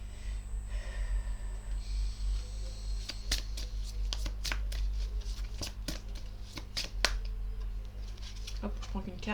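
Tarot cards being shuffled, a series of sharp riffling clicks and flicks in several bursts, with a steady low hum underneath and quiet breathing nearby.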